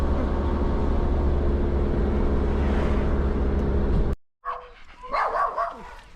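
Two small dogs bark behind a gate a few times with sharp yips after a steady engine-like rumble cuts out, the barking fairly close and moderately loud.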